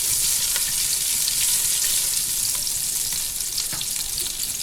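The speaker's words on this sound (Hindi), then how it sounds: "इसे हम हल्का हल्का सा फ्राई करेंगे।" Steady hiss and crackle of cumin seeds sizzling in hot oil, continuous and close, with faint scattered pops and no voices.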